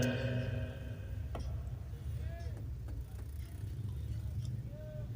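A police van moves through jammed Karachi traffic, a steady low engine rumble with passing vehicle noise, ticks and faint horn-like tones, while someone talks over it throughout.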